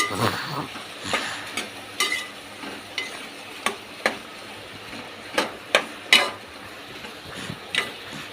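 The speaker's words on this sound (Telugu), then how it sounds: "టమాటా కూడా వేసి బాగా మిక్స్ చేసుకొని" Tomato is stirred into an Andhra-style okra curry in a pan, a spoon knocking and scraping the pan in roughly regular strokes over a soft continuous sizzle.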